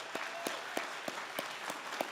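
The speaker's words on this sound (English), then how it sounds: "If you'll just give one more round of applause of thanks on this Father's Day for everybody who supported you through this journey." Applause from a graduation crowd at a college commencement ceremony, a steady dense wash of clapping with a few sharper individual claps standing out in a regular rhythm.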